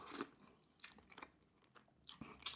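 Baby back ribs being eaten messily at close range, with sharp bites, crunchy chewing and wet smacking in irregular bursts separated by quiet pauses, no talking.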